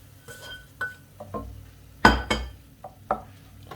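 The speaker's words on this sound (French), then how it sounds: "On mélange bien." Chicken filling mixed with added eggs is stirred in a pan for chicken bricks, with irregular scraping and clinking strokes, a couple of them sharper and louder, and no talking.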